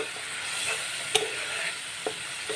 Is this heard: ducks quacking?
no